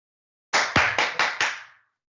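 Five sharp hand claps in a quick, slightly uneven run, close and loud with a short room echo, heard alone with no talking.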